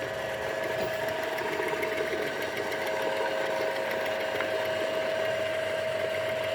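A car engine idles steadily with a constant hum and faint whine while the gearbox is moved from neutral into first gear on a drive train demonstration, close and even throughout without speech.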